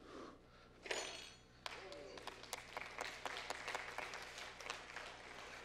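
After a science demonstration, an audience breaks into applause with a few clinks and thuds at the start, then sustained clapping from a room of people with a voice speaking over it.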